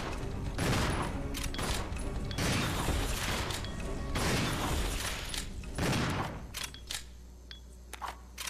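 Shotgun blasts in Resident Evil 0, heavy booming shots repeated roughly every second amid clanking mechanical pump and reload sounds, loud and close, thinning out into quieter clicks toward the end.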